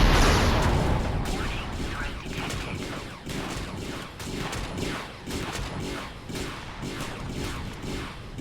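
Steady rhythmic gunfire pounds a turret in the space survival game Empyrion Galactic Survival, evenly spaced loud bursts repeating for several seconds after a heavy opening blast.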